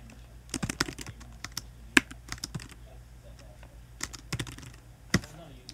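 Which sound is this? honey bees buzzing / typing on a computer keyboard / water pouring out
typing on a computer keyboard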